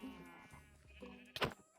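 A Minecraft sheep lets out a short, sharp bleat near the end of the clip, clear and close against a quiet in-game background.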